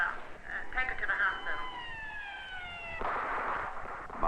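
An ambulance siren wails during a hurricane rescue, its rising and falling tones sweeping steadily over several seconds, moderately loud and mixed with background voices and storm noise.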